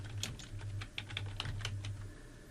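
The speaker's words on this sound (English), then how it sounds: "in the search bar up here, you want to type in mouse settings" Rapid, uneven keystrokes on a computer keyboard, close and clear, a burst of clicks typing a search into a Windows 11 search bar over a steady low hum.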